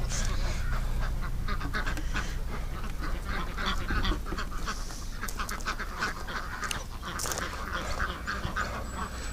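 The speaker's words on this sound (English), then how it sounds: "there's a bunch of ducks on this side" Many ducks quack continuously nearby at a barn, a dense overlapping chorus of nasal calls over a steady outdoor rumble.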